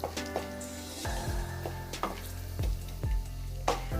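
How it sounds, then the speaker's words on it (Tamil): Whole cloves, cardamom, cinnamon and fennel seeds fry in hot oil for tomato kurma, giving a steady close sizzle with occasional stirring knocks against the pan, under soft background music. "கொஞ்சம் நல்லா பொரிஞ்சு வரட்டும்."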